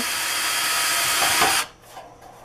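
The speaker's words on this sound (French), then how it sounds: "Donc, on en perce d'abord un ici au centre." A power drill bores a hole through a template, a loud steady high whine that rises slightly in pitch before stopping sharply after about one and a half seconds, followed by quiet handling noise.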